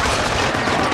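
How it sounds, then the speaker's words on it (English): A single close-range shotgun blast in the Killzone Mercenary first-person shooter on PS Vita, a loud, dense burst of gunfire noise lasting about a second with no talk over it. "Point blank shot to the chest with a fucking shotgun."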